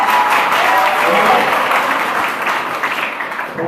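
Audience applause at a school computer quiz competition, a steady, dense wash of many hands clapping that holds for several seconds, loud and close, fading slightly toward the end.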